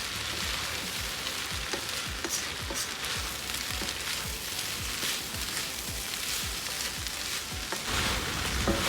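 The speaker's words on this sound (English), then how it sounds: "Stir this up." Shrimp fried rice with fried rice seasoning is stirred and tossed in a hot pan, a continuous close sizzle with repeated scraping strokes and no talking.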